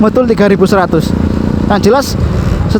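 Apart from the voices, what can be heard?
None of the usual background noises is heard.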